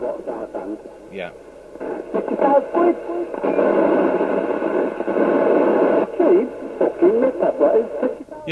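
Harsh, distorted voice transmissions from a UK FM CB radio, a Maxcom 30E CB27/81, picked up from about 35 miles away, over-deviating and buzzy, with steady crackly bursts.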